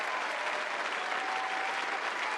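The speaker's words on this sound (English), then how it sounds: "Let me let that clap for a little bit" A canned applause sound effect plays on a podcast, a short, even burst of crowd clapping at moderate level with no break in its texture.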